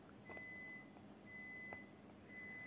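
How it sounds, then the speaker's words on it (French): An appliance reminder beeps quietly indoors, three sustained electronic tones spaced about a second apart over faint room noise. "Pourquoi il bip encore?"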